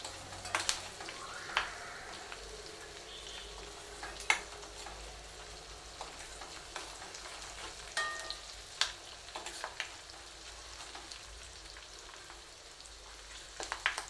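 Cashews frying slowly in a pan for ven pongal, giving a faint, steady sizzle punctuated by scattered sharp pops and clicks from the spoon throughout.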